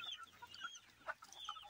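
Desi village hens cluck softly in short, scattered calls, with a few sharper clucks standing out over a quiet farmyard background.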